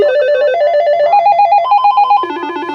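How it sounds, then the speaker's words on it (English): Electronic ringtone from a vintage 1990s Southwestern Bell screen phone, a loud warbling trill that steps upward in pitch through a short melodic sequence, with no voices. "Here's the ring sounds for this phone. Basic 90s phone."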